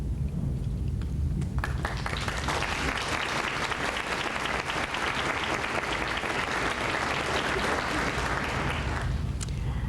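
A hall audience at a 1987 university spring convocation gives loud sustained applause, a thick continuous wash of clapping that swells after a couple of seconds and holds for nearly ten seconds.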